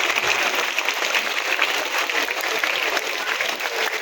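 An audience claps steadily throughout a school Teacher's Day celebration at St Joseph's Higher Secondary School in Manjakuppam, Cuddalore, a dense, even wash of many hands at close range.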